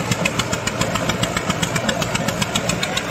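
A tractor engine works hard in a wet, boggy field, chugging with a steady, fast, evenly spaced thudding rhythm, loud and close with no voices over it.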